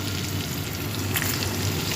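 Tomatoes fry in hot ghee for a mutton biryani, giving a steady, dense crackling sizzle that continues without a break from start to finish.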